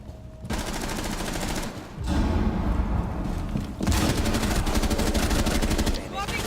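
Rapid bursts of automatic gunfire from a teammate in a Rainbow Six Siege match, loud and dense with short pauses, continuing through most of the stretch amid game noise.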